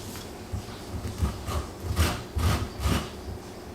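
A zester skims across lemon peel, making a handful of soft, close scraping strokes in an uneven rhythm, with no talking.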